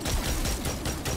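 Sturm hand cannon from Destiny 2 firing in rapid succession, a quick string of about five loud punchy shots packed into barely a second.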